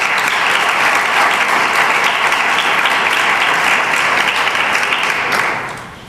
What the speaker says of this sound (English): let's start with a round of applause for our panelists